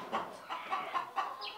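Hens of a local parent stock flock clucking on a poultry farm, several short close bursts in an uneven rhythm with a higher call near the end.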